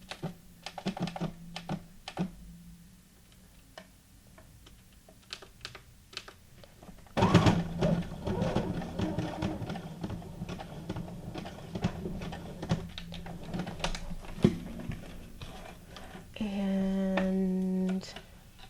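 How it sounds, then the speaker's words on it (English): A sewing machine runs a simple zigzag stitch on journal cards made from guest checks, giving short clattering bursts early on and a denser sustained run after about seven seconds, ending in a steady motor whir; no one speaks. "So I'm going to do a simple zigzag stitch."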